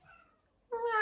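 A house cat meows twice up close, first a faint short call and then a louder, clear tonal meow after a brief pause, with no talking.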